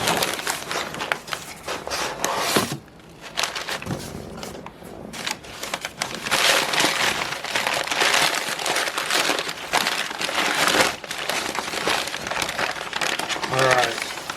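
Plastic packaging crinkles and rustles while a new straight-cut 727 low gear set is unwrapped, steady handling noise close by with a few brief pauses and quiet talk over it.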